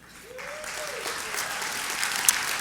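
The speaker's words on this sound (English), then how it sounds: "I see a lot of hands being raised, a lot of people clapping." Convention audience at the 2014 NAPABA gathering breaks into dense, loud applause that builds and holds steady throughout, with a brief voice rising faintly at the start.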